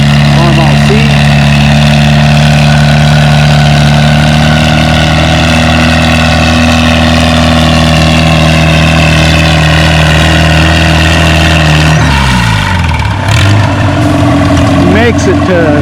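A Farmall C tractor engine labors under heavy load at a tractor pull, a loud, close, steady drone whose pitch drops sharply near the end, with a voice talking over it.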